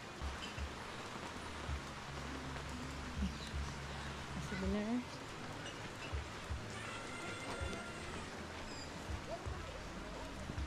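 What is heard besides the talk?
heavy rain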